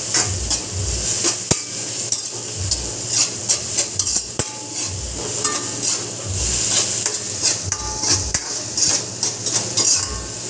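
Chili peppers and vegetables frying in a wok-style pan for a Filipino coconut-milk tuna-jaw dish, a steady loud sizzle broken by frequent clanks and scrapes of a utensil against the metal pan.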